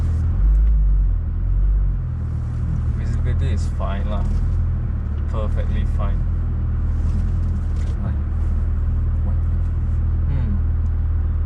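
A Porsche 992 Carrera 4S idles with a steady, deep engine rumble while reversing out of a showroom, continuous throughout and heard under someone talking.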